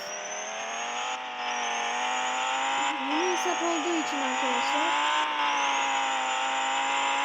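A car drives in the Roblox-style game Driving Empire, its engine a steady, bright synthetic drone with a faint high whine, continuing throughout while someone talks over it.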